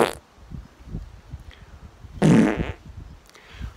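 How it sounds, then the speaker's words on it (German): A fart on a ferry, a short loud buzzing burst in the middle of a quiet stretch, preceded and followed by faint rumbling background noise and a brief sharp sound at the start. "Man muss ja auch gut furzen können auf so einer Fähre"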